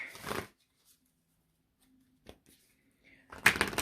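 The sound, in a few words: shuffling Moonology oracle cards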